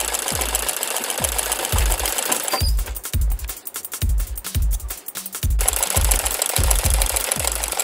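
A sewing machine runs straight-seam stitching in rapid rhythmic bursts of needle thumps, loud and close, pausing briefly mid-run before resuming, with no talk.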